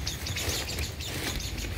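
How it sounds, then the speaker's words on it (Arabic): Small birds chirp outdoors in a quick, repeated high twittering over steady background noise, fairly close and continuous through the short stretch. "شوفوا ما شاء الله هذوك العصافير والصوت تاعهم يهبل."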